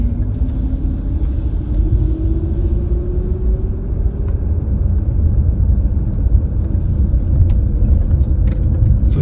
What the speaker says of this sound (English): So this is just driving through the back of the town centre.